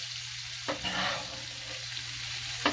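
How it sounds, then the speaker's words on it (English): A ribeye steak sizzles loudly in a hot pan while being basted, with a constant frying hiss and brief spoon scrapes and splatters near the start and end. "Oh, so much basting."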